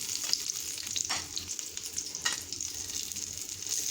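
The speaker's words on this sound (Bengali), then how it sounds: "এই দেখুন আমার করলাটা ভাজা হয়ে গেছে" Bitter gourd slices fry in a pan with a steady bright sizzle, broken by a couple of louder crackling bursts as the pieces are stirred or turned, nearby and without talk.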